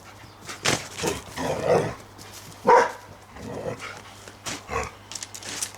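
A dog near a tent being pitched gives several gruff barks and huffing sounds spread across the clip, fairly close and loud between quieter stretches.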